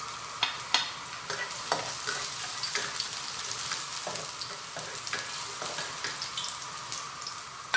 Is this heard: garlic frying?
yes